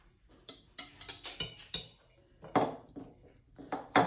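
Grated cassava cake mixture being stirred by hand in a bowl, heard as a series of close, irregular clinks and scrapes of a utensil against the bowl, with no talking.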